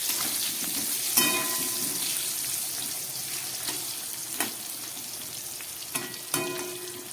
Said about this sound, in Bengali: এবার এই তেলের মধ্যে আমি কয়েক টুকরো আলু ভেজে নেব